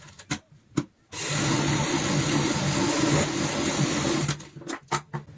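A sewing machine runs in one steady burst of about three seconds while stitching a ladies' party bag, with short clicks and handling noises just before and after the run.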